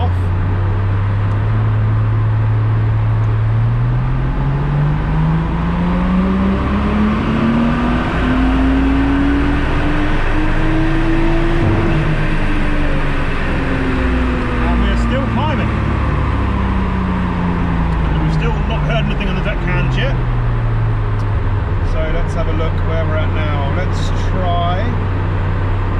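A Nissan Skyline engine on a dyno during live ECU tuning revs up steadily to a peak, then winds back down and settles, a loud continuous drone that fills the whole stretch, with some talk and clatter in the background.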